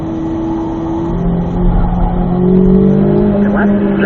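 A race car engine accelerates in second gear on a track, a loud continuous engine drone rising in pitch over a few seconds, close and steady.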